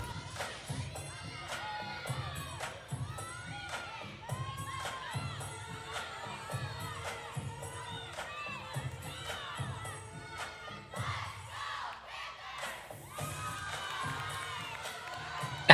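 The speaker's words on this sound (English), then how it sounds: "I love the team that you can hear in the back cheering on." Gymnastics team cheering in the background at a women's NCAA meet, the Bulldog Invitational, rhythmic bursts of shouting and chanting voices with regular thumping beats, moderately distant and steady throughout.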